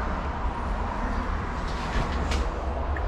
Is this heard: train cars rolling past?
yes